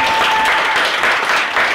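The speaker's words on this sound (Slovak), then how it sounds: "Tak poprosím ešte jeden veľký potlesk pre červenú čiapočku." A live audience applauds loudly and steadily for a performer dressed as Little Red Riding Hood at a children's stage show, dense clapping filling the short moment.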